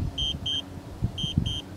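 A DJI Spark drone controller sounds warning beeps during a long-distance flight: two pairs of short, bright, evenly spaced electronic tones separated by a brief gap, over faint outdoor rumble and a few soft knocks.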